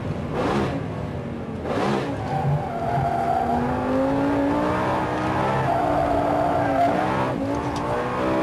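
A Lamborghini Gallardo SE engine revs and accelerates, rising and falling in pitch through gear changes, loud and close with a sustained tonal drone and brief tire squeal, no talk.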